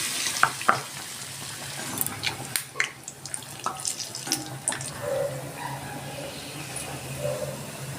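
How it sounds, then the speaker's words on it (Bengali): A besan-dipped sandwich stuffed with semolina filling fries in oil, giving a soft, continuous bubbling hiss with scattered crackles and pops. "আমি এইভাবে বেসনে চুবিয়ে এই তেলের মধ্যে দিয়ে দিলাম"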